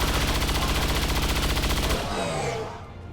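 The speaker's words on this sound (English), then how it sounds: "we'll hit this one with a standard shot" Rapid automatic gunfire from XCOM 2: War of the Chosen, a dense, steady burst for about two seconds that cuts off into fading echoes and game effects.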